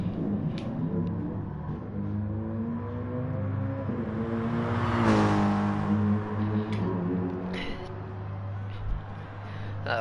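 Car tyres spinning and an engine revving in a Project CARS-style racing video game at Sainte Croix, a steady droning engine with rising pitch sweeps near the middle, heard under a commentator's talk.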